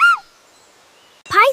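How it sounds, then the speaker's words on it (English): A kiwi bird gives two short calls, each a rising, whistled cry with bright harmonics, separated by about a second of quiet; clear and close. "Kiwi."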